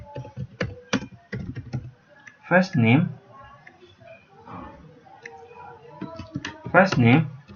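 Computer keyboard typing while writing HTML table header cells, bursts of quick clicks near the mic alternating with someone talking over and between them.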